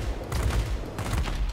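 Twin 30mm cannons on a Ki-162-III fighter plane firing in World of Warplanes, a loud dense burst of rapid heavy shots in two clustered volleys with a brief pause between them.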